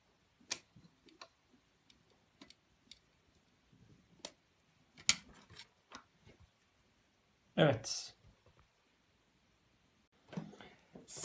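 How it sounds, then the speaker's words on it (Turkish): Screwdriver tightening a wire terminal on a two-way (vavien) light switch during electrical wiring, heard as sparse close clicks and small scraping ticks with a louder rasping burst near the end, faint speech between. "Şimdi bunu tornavida yardımı ile sıkıştıralım."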